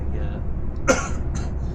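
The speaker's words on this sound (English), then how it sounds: "I'm not sure where this cough has come from." A single short cough from a nearby man cuts in over a steady low engine drone, with a quieter second burst just after it.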